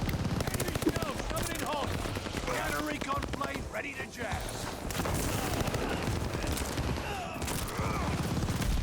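Rapid Welgun submachine gun fire in Call of Duty Vanguard multiplayer, a dense, continuous stream of shots and game effects running loud through the whole stretch.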